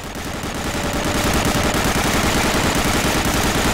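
Relentless rapid gunfire in the World War II shooter Medal of Honor: Allied Assault, a loud, dense machine-gun rattle sustained without pause throughout.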